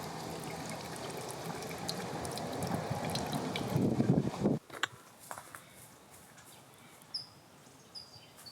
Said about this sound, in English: First time at a water fountain.